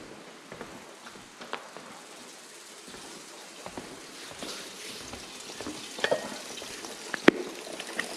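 Garlic sizzles in a frying pan as a soft continuous crackle with scattered pops and a few stirring scrapes, close but fairly quiet, with no voices.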